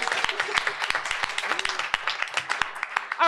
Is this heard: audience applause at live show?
yes